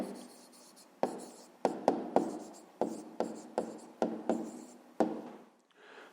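A pen writes an answer by hand on paper: a string of faint, close scratchy strokes in an irregular rhythm, each a short scrape, with no voices.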